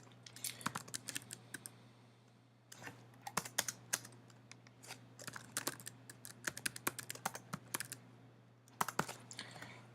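Computer keyboard typing while entering code, bursts of quick clicky keystrokes in irregular runs with short pauses, close and fairly quiet over a steady low hum.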